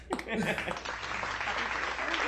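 Crowd applause in Las Vegas, a burst of clapping and cheering that swells early and then holds as a steady wash, heard behind someone talking loudly over it.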